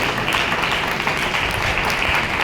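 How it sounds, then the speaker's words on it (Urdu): A church congregation at a Palm Sunday service claps in a dense, steady round of applause that fills the whole moment, with no voices standing out. "ابیل کے لیے بھی تالیاں بجائیں"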